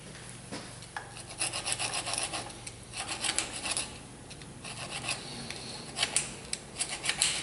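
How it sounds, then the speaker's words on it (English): A metal file rasps in short repeated scraping strokes, pushing rust out of a groove in a Dodge Grand Caravan CV shaft fitting softened with penetrating oil; close, dry and gritty, with no talk. "just stick the corner of the file right in the groove and just push some of that rust out"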